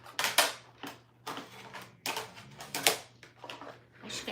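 A die cutting machine crank-pressing paper shapes at a home stamping and crafting desk, giving repeated loud mechanical clacking and crunching bursts in an uneven rhythm with a steady low hum beneath, close by and free of talk.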